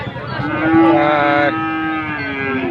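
A desi calf at a village cattle market gives one long, loud, drawn-out moo that rises and then holds before trailing off, heard close and alone.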